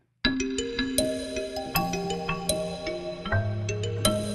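Synthetic bell tones from the MegaMagic Bells n Winds library, reverb variation, ring out in a cascade of bright overlapping strikes, each tail blooming and sustaining into a shimmering wash over about four seconds.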